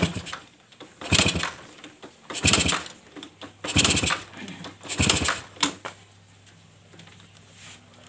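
A Suzuki RC motorcycle being kick-started: four or five loud, rough mechanical strokes at about one-second intervals, then a faint low steady hum as the engine idles quietly, with no talk.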